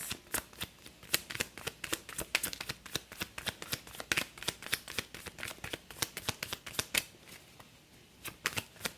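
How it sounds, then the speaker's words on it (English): Tarot cards being shuffled in a steady run of quick riffling bursts, close up, with no talking. "I'm one of those people that likes to shuffle until something falls out"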